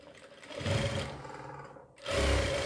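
A sewing machine stitching a pant seam runs in a steady, close motor whir, pauses briefly, then picks up again louder, with no talk.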